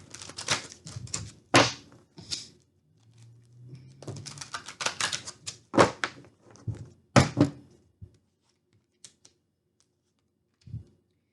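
Tarot cards shuffled and pulled at a table, with bursts of riffling and soft slaps in irregular clusters, separated by quiet pauses and a final faint tap.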